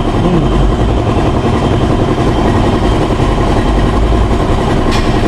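A motorcycle engine runs after an oil change with Castrol fully synthetic oil. It is a loud, close, continuous idle with a steady, even mechanical rumble throughout.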